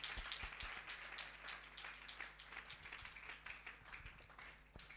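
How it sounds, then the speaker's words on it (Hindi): A church congregation claps to welcome someone speaker, giving faint, scattered hand claps in an irregular patter throughout. "आइए ताली बजा के स्वागत करते हैं परमेश्वर की दासी का"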